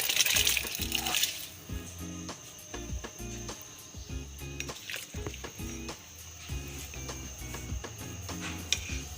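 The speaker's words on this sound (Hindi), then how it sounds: "इसमें ये चावल डालने लगे" Rice drops into a pot of boiling water while making chana pulao. A soft bubbling wash and a rushing splash at the start give way to a faint simmer and scattered clinks of utensils.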